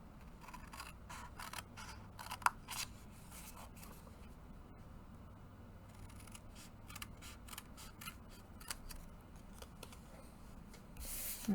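Scissors snipping corners off a card for a Happy Birthday box card, quiet close cuts with a few sharp snips scattered through near silence.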